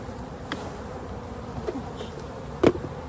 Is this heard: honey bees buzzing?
yes